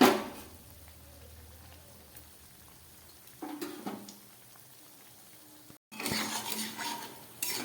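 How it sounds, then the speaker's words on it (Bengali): Homemade sweets fry in a pan, giving a soft bubbling hiss broken by louder clatters of a utensil against the pan, with a short pause before a busier stretch of bubbling and scraping. "বাকিগুলো এইভাবে ভেজে নেব।"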